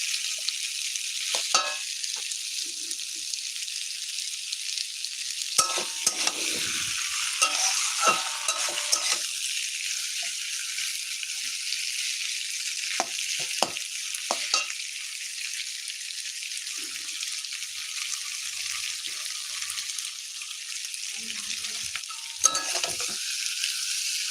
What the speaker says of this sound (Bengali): এটাকে একটু আমি ভাজা করে নেবো